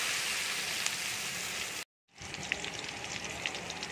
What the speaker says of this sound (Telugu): డీప్ ఫ్రై చేస్తాను